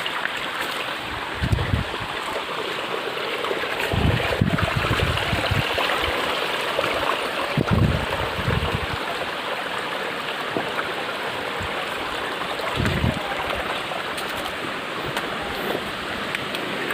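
Water of a mountain stream on Malyagiri runs over stones in a steady broadband rush, with a few low thumps of footsteps or knocks scattered through and no talk.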